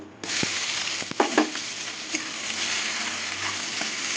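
Onions frying in a pan of hot oil for a Bengali dish of bottle gourd with small fish, a steady close sizzle starting abruptly, with a few scrapes and stirring knocks partway through.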